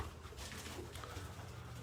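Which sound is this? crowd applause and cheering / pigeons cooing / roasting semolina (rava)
pigeons cooing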